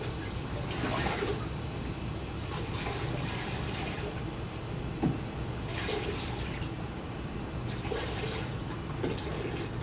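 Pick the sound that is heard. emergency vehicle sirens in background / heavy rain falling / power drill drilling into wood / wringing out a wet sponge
wringing out a wet sponge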